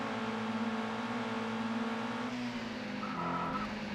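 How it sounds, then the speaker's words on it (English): Tires skid and squeal under braking on a Lotus 340R in the ToCA World Touring Cars racing game, a steady engine drone carrying through with a rising squeal near the end, loud and close, no talk. "And again, the car losing it under brakes."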